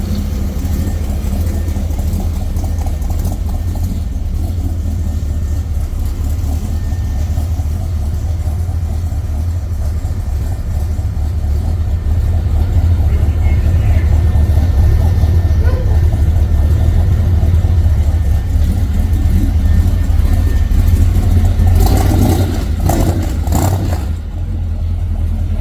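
Ford Anglia street rod engine starting and running close by, a heavy low rumble that idles steadily, swells louder around the middle, then rises in a couple of sharp revs near the end, with occasional talk underneath.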